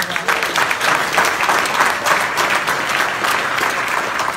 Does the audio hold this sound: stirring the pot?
no